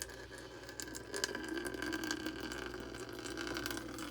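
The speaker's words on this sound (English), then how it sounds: "So I'm just going to put a little bit of gas in there at first." Gasoline poured into the fuel tank of a Lawn-Boy mower, a faint steady trickle and gurgle of liquid lasting a few seconds, quiet and close with no talking.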